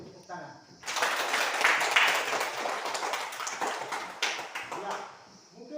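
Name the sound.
class applause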